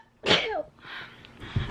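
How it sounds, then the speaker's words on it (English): A single sneeze from a young woman, a sharp close burst with a gasping intake, followed by a brief sniffle and breathy noise. "I have to sneeze."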